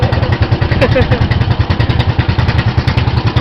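A loud boat engine, one of two, chugs steadily in a fast, even pulse close by, with people talking over the running motor.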